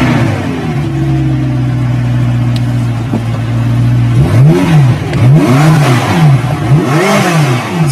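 A McLaren supercar engine idles with a steady low drone, then revs up hard three times in a row, each surge rising and falling through the exhaust.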